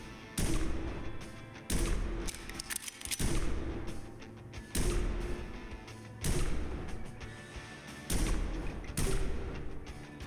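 Pistol gunshots fired at a shooting range in the Prison Simulator video game, loud repeated blasts roughly every one to two seconds, each with a short booming tail.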